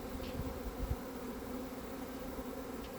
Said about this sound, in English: Just look how little these bees are and how important they are.